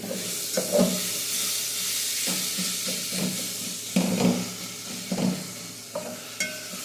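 Spiced rice stirred in a pot on a stovetop burner at low flame, with a steady soft sizzle and hiss under repeated scraping strokes of the spoon, close and moderately loud, no talking.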